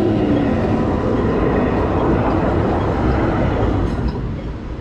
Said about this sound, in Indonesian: Keretanya lewat. Enggak ada palang pintunya ya.